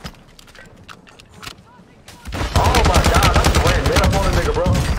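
Gunfire in Call of Duty: Warzone, scattered single shots at first, then a loud, sustained burst of rapid automatic fire and bullet impacts filling the second half.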